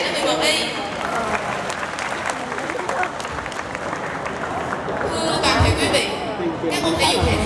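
Students in a school audience clap for class 11Y at a Teachers' Day anniversary event, producing sustained, loud applause with murmuring voices throughout and brief bursts of brighter, sharper clapping near the end.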